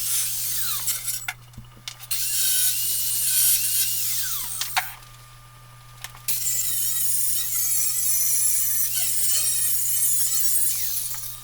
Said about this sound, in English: now I can remove that temporary bracket for clamping now that everything's tapped in place